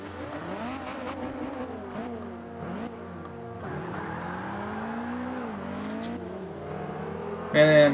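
Race cars launching at the start of a Forza Motorsport 5 race, engines revving and climbing in pitch through repeated gear shifts, a steady close roar with a voice talking over it.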